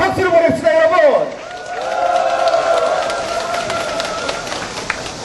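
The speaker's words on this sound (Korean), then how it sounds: "우리 서로가 서로에게 응원과 격려의 박수를 보냅시다" An audience at a Korean political rally gives a short burst of applause that fades after about a second, followed by a mix of lingering clapping and a speaker's voice over a loudspeaker.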